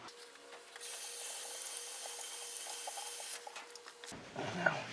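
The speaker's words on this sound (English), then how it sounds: "Let me rinse it in the sink here." Tap water runs into a kitchen sink while a rusty object cleaned with WD-40 is rinsed, a steady, fairly faint hiss of flow that stops abruptly near the end, followed by light clatter.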